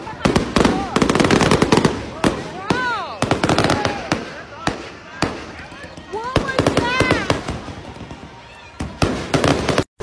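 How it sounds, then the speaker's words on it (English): Fireworks go off in rapid, loud crackling bangs and pops close by for the whole stretch, with people shouting and laughing among the blasts. "Fireworks stop. Gone wrong."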